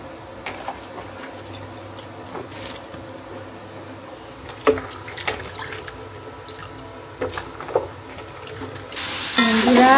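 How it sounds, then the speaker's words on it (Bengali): Eleven kinds of vegetables dipped again and again in a bucket of water, giving close, soft sloshes, splashes and drips in an irregular rhythm, with a louder burst of running water near the end. "সেই সবজিগুলো খুব সুন্দরভাবে বালতিতে চুবিয়ে চুবিয়ে ধুয়ে"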